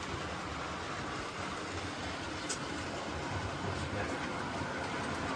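A small model train runs on a model railway layout with a steady, hissing rattle of wheels on track, continuous and fairly faint, with no voices.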